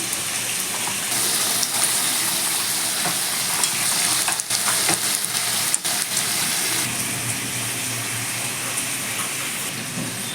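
Potatoes sizzle in hot oil in a pan, a continuous near hiss that swells louder for a stretch and carries occasional pops and stirring scrapes.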